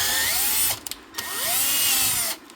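Power drill boring holes in a metal bumper part clamped in an Irwin flat vise; loud whining runs with shifting pitch, a brief dip and clatter in the middle, then the drill spins up again.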